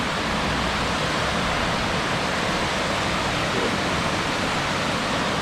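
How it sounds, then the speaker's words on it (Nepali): A forest waterfall at Maroondah Reservoir Park near Melbourne, Australia, gives a loud, unbroken rushing roar of falling water, close by and steady throughout. "झरना देख्दा नेपालको याद आउँछ ल हेर्नुहोस्"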